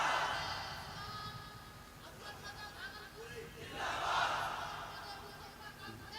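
A crowd at a naat gathering shouts back a loud collective response, a swelling roar of voices that rises, dips, and surges again near the end.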